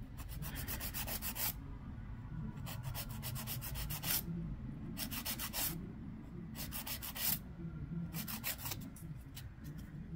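A 100 grit file rubbing against a polygel nail in repeated short bursts of scratchy, rasping strokes, close and fairly quiet, with brief pauses between runs.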